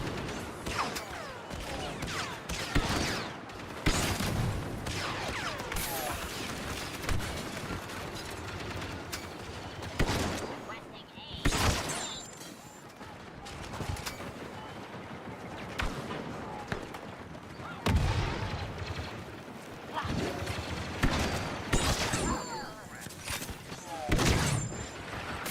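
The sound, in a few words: gunfire from a gun in the video game Star Wars Battlefront II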